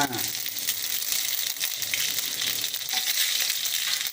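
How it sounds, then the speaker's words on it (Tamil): Mustard seeds pop and splutter in hot oil in a pan while cooking a spicy anchovy fry, making a continuous bright crackling sizzle with faint sharp pops. "சரி கடுகு கொஞ்சம் போட்டு பார்க்கலாம் சூடாட்சியில் தெரிஞ்சிடும் கடுகு போட்டாச்சு"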